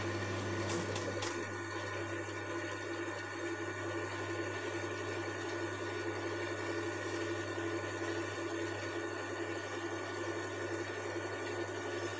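Sewing machine stitching slippery fabric for a Land Rover gear knob cover with black thread, a continuous close mechanical hum and rapid needle chatter running unbroken throughout.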